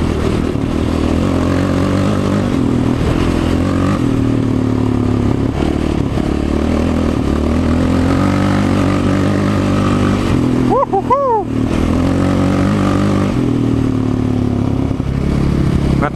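A quad bike (ATV) engine drones steadily and loudly while driving over a sandy road, with clattering and scraping from the terrain throughout.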